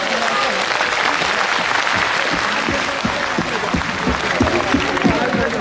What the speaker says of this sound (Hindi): दोनों हाथ ऊपर करके एक बार अपने आप के लिए ताली भी बजा दीजिए